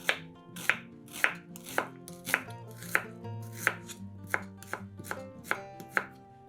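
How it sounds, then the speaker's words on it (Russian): Knife chopping an onion into half rings on a cutting board in a steady rhythm, about a dozen crisp even strokes, close up with no talking. "Одну луковицу нарезаем полукольцами."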